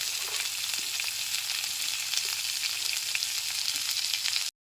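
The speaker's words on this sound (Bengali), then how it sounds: "এবার গ্যাসের ফ্লেমটা মিডিয়ামে রেখে সমস্ত সবজিগুলোকে কিছু সময় নিয়ে ভেজে নিতে হবে" Carrots, beans, capsicum and peas fry over a medium flame in a pan, giving a dense, even sizzle that holds steady throughout with a few faint stirring clicks, then cuts off abruptly.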